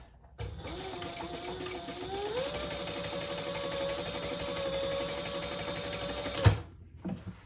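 A sewing machine stitches steadily under a wallet card slot, its motor whirring at an even, close pitch that rises slightly early on before holding level, then stopping with a clunk.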